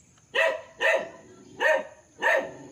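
A dog on a farm property in Liliw, Laguna barks four times in an even rhythm, each bark loud and clear at moderate distance, with quiet pauses in between and no talking.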